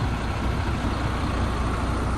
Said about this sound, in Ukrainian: Машина гріється, качає повітря.